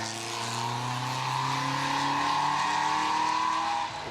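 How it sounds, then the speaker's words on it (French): A 1951 Aston Martin DB2, freshly restored, driving during the Tour Auto 2007 road rally, its engine note rising steadily in pitch as it accelerates past, loud and close, then cutting off abruptly. "La numéro 2, une Aston Martin DB2 de 1951, qui sort d'une splendide restauration"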